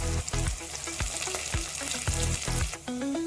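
Loud, steady sizzling of large onions frying in a pan with curry leaves, with periodic stirring scrapes and clatter, close up and without talk.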